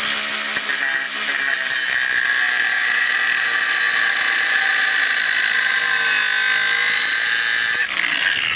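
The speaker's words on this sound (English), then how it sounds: "So you can come in here with a grinder like this." An angle grinder cuts away leftover material from a hole-saw tube notch, keeping up a steady, loud, high-pitched whine for about eight seconds before it cuts out.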